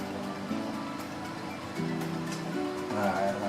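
Water from a tap runs through a filter in a steady, soft rushing flow beneath a low hum, without a break.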